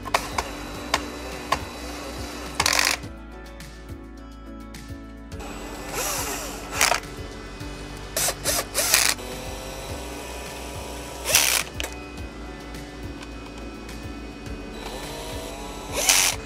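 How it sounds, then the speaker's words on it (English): An electric screwdriver drives aluminum screws during a Sony TV repair, several short whirring bursts separated by quiet handling clicks, close and fairly soft. "Now we're going to finish up the aluminum screws."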